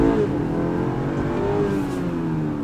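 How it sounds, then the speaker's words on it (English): Turbocharged four-cylinder engine of a 2021 BMW X3 xDrive 30i with 248 horsepower, accelerating hard in sport mode, a loud steady rising drone heard from inside the cabin. "So I'm just gonna gun this."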